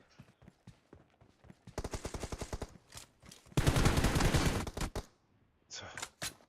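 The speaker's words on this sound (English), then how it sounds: "Nice return fire from Beekeeper." Video game arena match gunfire: several volleys of rapid automatic shots, some sustained and loud, others brief, with short gaps between bursts and faint background sounds.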